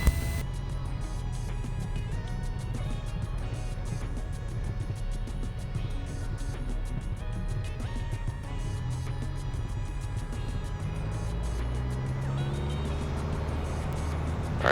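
Piper Cherokee light aircraft at takeoff power on its roll down runway 27, the engine pushed to about 2300 rpm. Its loud, steady, broadband drone holds evenly close by throughout, with no talk over it.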